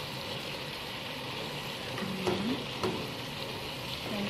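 Chicken frying in a pan, cooked for an Arabic chicken salona, sizzles steadily while a utensil stirs it. A few louder scrapes and clinks of the spoon against the pan stand out over a constant close frying hiss. No one speaks.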